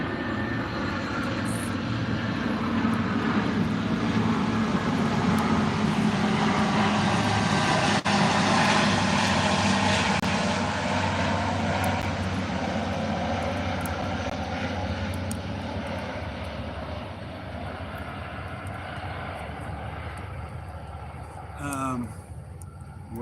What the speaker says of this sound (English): United States Air Force C-130s based in Little Rock, Arkansas, flying over our heads as we speak right now